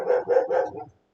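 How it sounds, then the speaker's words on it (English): A dog indoors barks at someone at the door: three or four loud, close barks in quick succession, then silence. "sorry about that. That's my dog."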